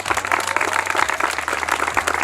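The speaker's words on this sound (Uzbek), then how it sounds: "Artirab chiroyli olqishlab qo'yamiz" Audience applause at a school last-bell ceremony, steady dense clapping throughout with a low hum underneath.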